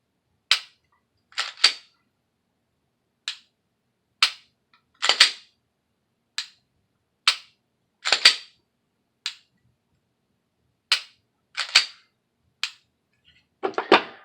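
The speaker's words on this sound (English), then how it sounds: "nice audible tactile clicks on the trigger break and the trigger reset" Glock pistol triggers give a series of sharp, close, dry clicks at the break and reset, single and paired snaps spaced irregularly with silence between them.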